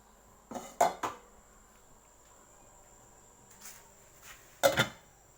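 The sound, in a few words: pot lid being handled while making paragis grass tea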